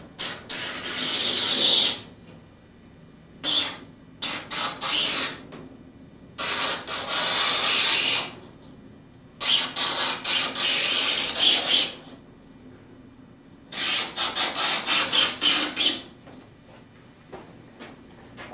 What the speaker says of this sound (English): I'm now going to take a razor knife, follow this straight edge, and make a cut through until the blade hits the fiberglass on the outside